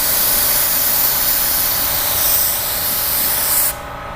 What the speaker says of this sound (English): There's the fan pattern, but I'm gonna narrow this fan pattern down for the sealer.